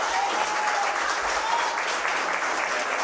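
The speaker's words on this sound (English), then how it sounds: "please give yourself a round of applause" Steady applause from a sizable crowd at a ward council debate fills the whole stretch, a dense, even wash of clapping with no pause.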